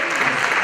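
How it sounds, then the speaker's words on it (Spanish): A debate audience claps for both sides, a short burst of dense steady applause close by. "aplauso para los dos lados"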